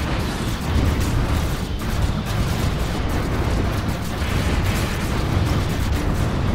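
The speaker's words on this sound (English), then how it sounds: "my missiles are doing pretty good damage" Missile explosions during a space battle in the strategy game Stellaris form a dense, continuous low rumble of blasts, loud and steady with no clear breaks.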